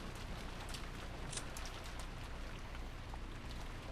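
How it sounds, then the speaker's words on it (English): Heavy rain pours steadily as a sound effect in the Umineko visual novel, a dense even wash of drops with a few brighter splashes near the start and no voices. "It's raining pretty hard out there."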